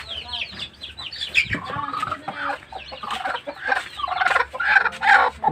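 A flock of chickens and young chicks clucks and peeps close by in a busy overlapping chorus, with a voice talking faintly in the background.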